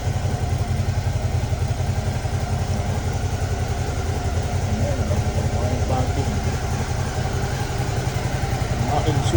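A Suzuki V-Strom DL 650 motorcycle engine idles steadily through warm-up after months unused, a close, continuous low rumble with a faint clatter and no change in pace.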